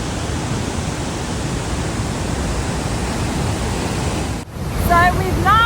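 Victoria Falls at Livingstone, Zambia, pouring with exceptionally high water, a dense, steady roar of falling water and spray filling the air at close range for several seconds before briefly dipping, with faint chirps sounding over the rush.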